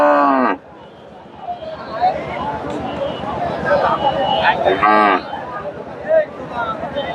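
At a cattle market, a cow lets out two loud, close moos, one at the start and another near the middle, while people talk and crowd noise fills the background.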